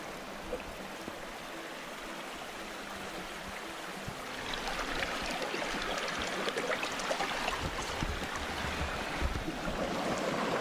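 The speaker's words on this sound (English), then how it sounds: "Check out this bit of the waterfall here." Water rushing over a small waterfall on the Allen River, a steady broadband roar that swells louder partway through as the flow sounds closer, with no voices.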